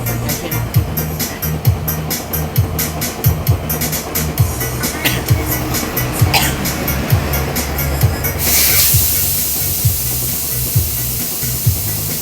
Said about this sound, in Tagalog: nandito po kami sa vulcanizing. Nagpapalit po ng gulong ng owner.